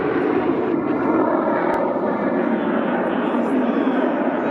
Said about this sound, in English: This Jaws 39 Gripen releasing flares while showing off during NATO days in Ostrava